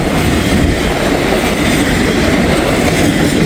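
A CSX freight train hauling empty welded rail cars rolls past close by, a loud continuous rumble and rattle of wheels on track with steady clattering and no voices.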